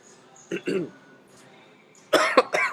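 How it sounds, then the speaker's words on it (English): Two sharp coughs close up from a person with a lingering cold, then a pause and another quick cluster of harsh coughs, louder than the first. "Almost over this cold. A little bit of a cough left."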